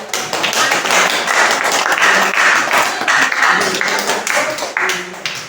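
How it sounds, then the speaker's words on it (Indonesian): Classroom applause for a student named Indri, a short burst of brisk, uneven clapping from a small group of students with light taps and thuds, close by, with brief murmured voices among it. "tepuk tangan dulu buat Indri"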